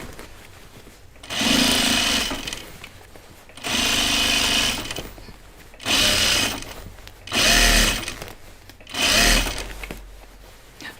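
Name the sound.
sewing machine stitching overalls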